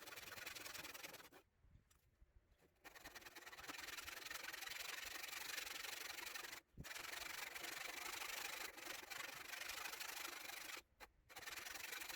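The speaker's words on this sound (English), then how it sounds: "So you can remove these sides here. Yeah, so just take your saw" Hand saw cutting wood to shape a sliding dovetail tenon, steady rasping back-and-forth strokes close up, broken by a few short pauses between bursts of sawing.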